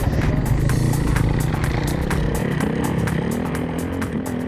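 Suzuki motocross bike ridden on the MXGP track at Lierop, heard from an onboard camera, a loud steady engine drone with wind rush, close and continuous, without speech.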